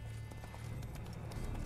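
Horse hooves clip-clop steadily in The Witcher 3: Wild Hunt – Blood and Wine, a quiet, even trotting rhythm lasting under two seconds over a low rumble, with no voices.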